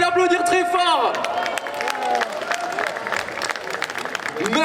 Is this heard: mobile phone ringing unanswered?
no